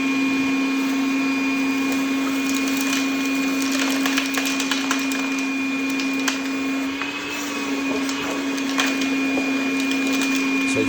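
Makita DVC750LZ 18V cordless portable vacuum cleaner running on its louder, more powerful setting 2, a steady high whine with scattered clicks and rattles of small debris and screws being sucked up, close and continuous.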